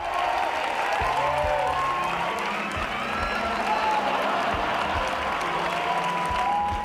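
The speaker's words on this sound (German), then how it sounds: "applaudiert und jubelt sie." A theater audience and stage cast applaud and cheer at a musical show, a thick wash of clapping with whoops and voices mixed in, loud and sustained the whole way through.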